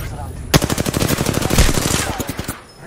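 Automatic weapon fire in the Apex Legends video game: a loud burst kicks in abruptly and rattles on in a fast, even stream of shots before tapering off near the end.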